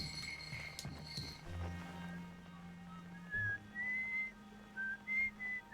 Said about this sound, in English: Someone's whistling, so we don't know who that is.